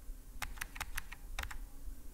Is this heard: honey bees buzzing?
no